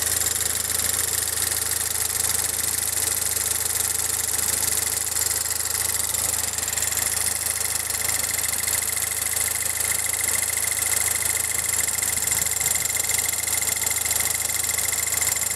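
A car engine idles steadily at roughly 700-800 RPM, giving an even, continuous hum with a faint vibration that never changes pace. It runs alone with no talking.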